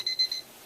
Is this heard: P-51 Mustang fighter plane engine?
no